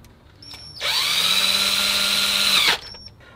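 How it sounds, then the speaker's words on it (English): A power drill whirs loudly and steadily for about two seconds, drilling holes in a wall, starting and stopping abruptly, with quiet room sound on either side. "So yeah, I'm just gonna drill it in place."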